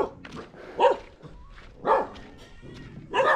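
Dogs in a Hmong hill village in Laos bark three times in short loud bursts about a second apart, fairly close, with a faint whimper between them.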